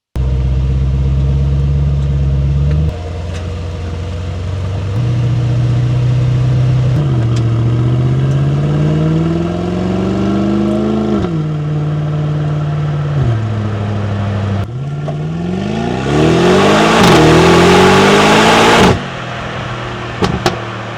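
A Mercedes GLE 63 S Coupe engine droning loudly while cruising, with repeated rising pitch sweeps through gear changes and a strong, close, surging roar near the end.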